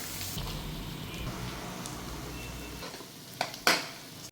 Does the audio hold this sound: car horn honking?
no